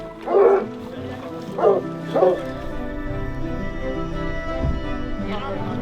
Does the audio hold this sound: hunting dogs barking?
yes